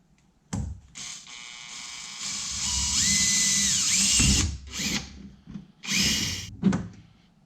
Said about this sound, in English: So now I'm just gonna do my best to make sure it doesn't move any. And I can get this second one drilled.